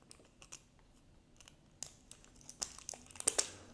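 A plastic toy package crinkles and crunches, with sharp snips and cracking as the packaging is cut open. The sounds come in short irregular bursts that grow louder and denser toward the end.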